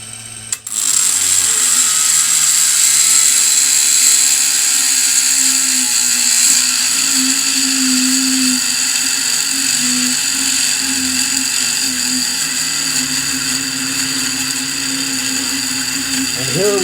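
A rotary tool motor bogs down under load, comparing a Milwaukee M12 brushless rotary tool with a Proxxon IB/E: a steady high-pitched whine with a lower droning hum, loud and continuous, the pitch sagging slightly as it strains.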